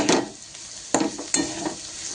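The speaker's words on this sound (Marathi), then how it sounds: "कमी गॅसवर छान परतून घ्यायचं" Curry leaves fry in oil over a low flame for a rice-flour dhokla, giving a steady close sizzle broken by three sharp bursts of crackle, each tapering off, with no talk.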